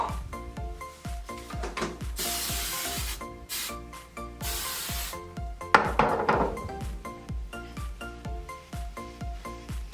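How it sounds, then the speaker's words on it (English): Several bursts of hissing hairspray from an aerosol can, a long one and a couple of shorter ones, over music playing in the background. "I usually spray each side with some hairspray"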